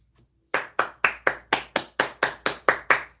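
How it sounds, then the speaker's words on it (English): Steady hand clapping, about eleven sharp, close claps at an even brisk pace, starting after a short silence with no talking over it. "round of applause"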